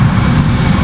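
Airbus A320 jet engines roaring at high thrust during takeoff rotation in the Project Flight video game, a steady loud broadband rumble that holds without a break.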